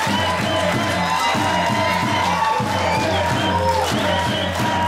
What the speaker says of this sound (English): This crowd in Festsouth Kreuzberg absolutely buzzing